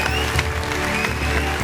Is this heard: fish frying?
no